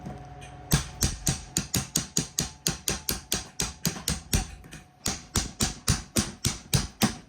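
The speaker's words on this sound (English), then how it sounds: "I always take a little bit of a hammer right here and tap it out" A hammer taps out a pin on a 1958 Vendo 81 Coke machine in a steady rapid rhythm, about two dozen sharp close metal strikes with a short pause partway through.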